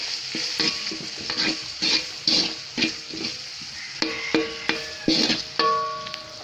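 Masala powder, turmeric, fenugreek, salt and chili powder for a Sri Lankan prawn biryani are stirred in a sizzling pan, with about a dozen rhythmic scrapes and clinks of a spoon on metal over a continuous close fry.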